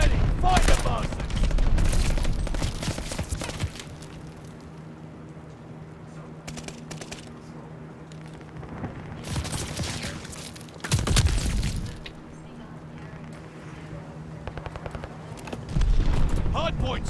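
Call of Duty: Vanguard Hardpoint match in its WW2 setting, with bursts of gunfire and rapid automatic fire from several directions, some near and loud, others farther off, over game announcer voices and player chatter.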